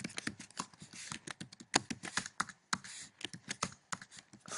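Rapid computer-keyboard typing while coding an Android app, with dense irregular key clacks and a few sharper, louder strikes close by, heard alone with no voices.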